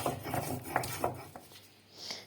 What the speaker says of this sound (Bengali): আদা রসুন ভালো করে বেটে নেব।